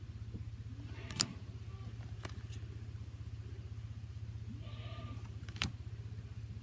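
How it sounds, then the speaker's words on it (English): Goats bleat faintly in the distance, a few short calls rising over a steady low mechanical hum, with no talk. "I don't know if you can hear the goats back there, but the goats are singing."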